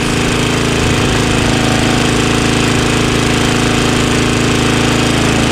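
An Ariens 524 two-stage snowblower with a 5 HP Tecumseh engine runs loud and close on half choke with a gummy carburetor, a steady rattling drone that never lets up.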